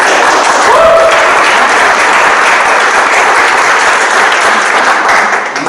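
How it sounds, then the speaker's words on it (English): An audience at a meet and greet event claps loudly and continuously, a dense close wash of applause that holds for several seconds before starting to ease at the end. "please give them a round of applause"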